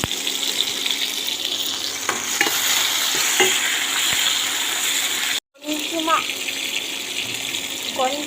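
Tomatoes going into onions frying in a pan for chicken gravy: a constant close sizzle with stirring scrapes, then a brief cutoff before the hiss resumes with small clinks.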